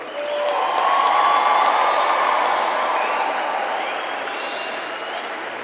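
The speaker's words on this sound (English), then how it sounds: "Let's give them one more round of applause." Crowd applause and cheering fill a college commencement ceremony, a steady dense wash of clapping with scattered whoops that swells early and eases slightly toward the end.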